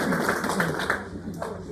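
A brief burst of audience applause at a fiber arts club meeting, mixed with voices.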